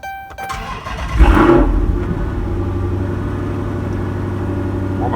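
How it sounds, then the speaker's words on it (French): A Dodge Charger SRT8 running on E85 starts in cold weather around -3 degrees: a quick cranking whir catches into a loud rumbling roar, then settles into a steady, deep idle close by, with no talk. "Bon bah ça démarre quand même relativement bien avec -3, hein"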